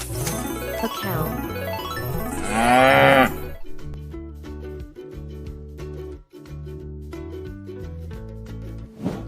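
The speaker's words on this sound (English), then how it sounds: "A cow." A cow gives several loud, drawn-out moos with rising and falling pitch, followed by a light repeating musical jingle playing alone.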